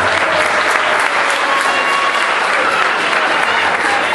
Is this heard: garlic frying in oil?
no